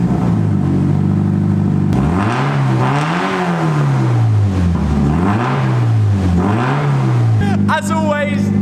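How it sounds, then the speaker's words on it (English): Subaru GT86/BRZ boxer engine with the stock exhaust removed: loud, raw idle, then repeated sharp throttle blips that rise and fall, settling back to a rough idle before a brief squeaky noise at the end. "It's a legal requirement on YouTube to start the car with no exhaust on."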